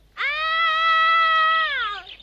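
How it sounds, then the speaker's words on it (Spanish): A cartoon character, a young bee in an animated series, lets out one long, loud, high scream that holds steady for about two seconds and then slides downward. "me parece que es Tecla la que grita"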